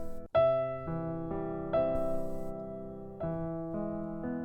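A short piano phrase: a loud opening chord followed by softer repeated notes that gradually ease off, each tone sustaining cleanly.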